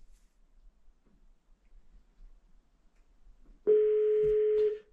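A phone call rings through a car's hands-free system, a single long steady ringback tone that starts clearly after near silence and lasts about a second before cutting off.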